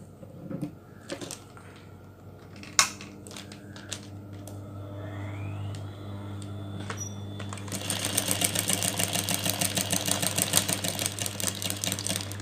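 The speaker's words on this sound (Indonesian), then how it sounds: "Yuk sekarang kita masuk ke mesin ya, kita mulai jahit." A sewing machine stitches recycled plastic bag material, starting with scattered clicks and handling noises, then running into a fast, even, rattling stitch rhythm that stays loud and close.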